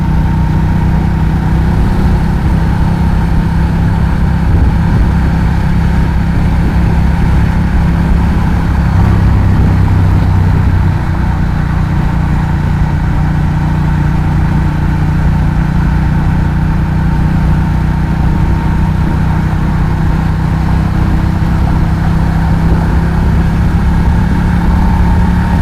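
A 2012 Ducati Diavel motorcycle with a Termignoni exhaust idles steadily and close, a loud, continuous low engine rumble with no talking.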